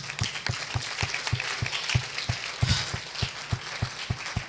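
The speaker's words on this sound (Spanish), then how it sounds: "Denle un aplauso a Jesús." Scattered applause for a man at a religious gathering, with distinct individual claps landing in a loose, fairly regular rhythm, moderately close and somewhat faint.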